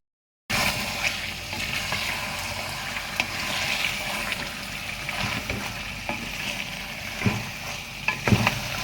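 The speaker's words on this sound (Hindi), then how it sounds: "4 टेबलस्पून दही शामिल करूँगी। और इसको थोड़ा भून लूँगी।" Yogurt frying in a pan for biryani, a steady loud sizzle and hiss with occasional stirring scrapes and clicks, close up and continuous with no voices.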